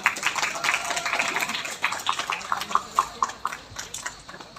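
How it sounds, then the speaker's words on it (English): A modest audience at a student debate claps after both teams finish their arguments, starting as a quick patter of hands that thins into scattered individual claps and fades out. "Please give a round of applause."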